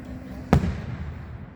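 A single holiday firework bursts with a sharp, sudden bang that decays into a brief low rumble, heard once at a moderate distance against faint background noise.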